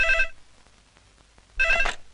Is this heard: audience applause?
no